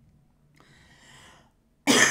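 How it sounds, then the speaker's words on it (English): A single harsh, loud cough bursts out near the end, close to the microphone, after a quiet stretch with a faint throat sound. "Excuse me, still got my cough."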